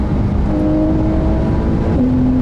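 Porsche 911 (992) with a PDK gearbox in Sport Plus mode accelerating hard, a loud steady engine drone with rising pitch, then a quick gear shift that drops and resumes the note, heard from inside the car.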